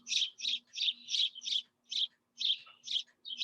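Small birds chirp in quick, bright bursts, about ten evenly spaced calls, fairly close and clear against a quiet background with a faint low hum.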